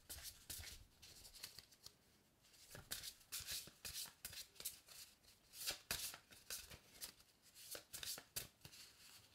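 Fairy oracle cards being shuffled by hand, a steady run of crisp riffling and slapping bursts that repeat through the whole stretch, close and fairly quiet with no talk.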